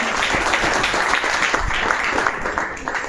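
A seminar audience breaks into dense, continuous applause, many hands clapping together at full strength for a few seconds.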